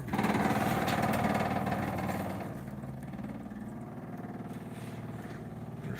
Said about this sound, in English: Now let's listen to our fuel pump.